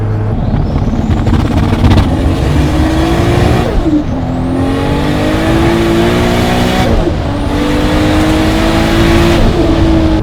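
A 1000hp Toyota Supra MK4 with a 3.4L stroker 2JZ and six-speed manual accelerates hard, its engine rising loudly through gears with two distinct shift breaks, heard close from inside the car.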